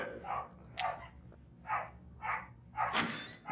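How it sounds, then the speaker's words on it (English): Dogs bark in the horror video game Until Dawn, several short separate barks spaced across a few seconds, fairly close and alone with no talking. "those dogs actually really annoy me"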